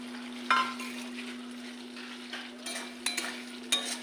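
Prawns go into oil that has separated from the spice paste for a homestyle chingri malaikari made without onion or garlic. The result is a faint, steady sizzle broken by a few soft clinks and stirring knocks against the pan.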